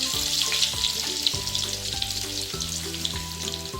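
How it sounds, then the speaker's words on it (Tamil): Steady oil sizzling and crackling from garlic frying golden brown in a pan, close and constant, with faint stirring and background hum. "பூண்டு நல்லா கோல்டன் ப்ரௌனாக வதங்கணும்"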